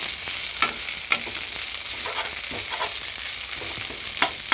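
Mint leaves for chutney fry in oil in a pan, a steady close sizzle with occasional sharp pops and the scrape of stirring, and no voices.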